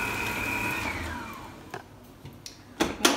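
A Cooking Chef stand mixer beating choux dough at speed 2, a steady motor whine that winds down and stops after about a second and a half, followed by a few scattered clicks and knocks.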